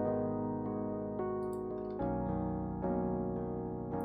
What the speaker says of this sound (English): using only the raw sound of a FL Studio native Rhodes